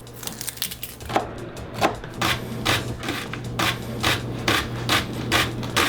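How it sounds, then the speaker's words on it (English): Knife slicing vegetables on a cutting board while prepping for red wine molasses ribs, a run of rhythmic rasping cuts, roughly one or two per second, close and fairly loud with no talking. "So we're gonna start off with cutting our vegetables for the ribs here."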